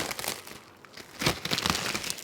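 Cellophane wrap being pulled off simulator accessories, with a close, crisp crinkling that eases off briefly and then returns louder and more continuous, with no talking.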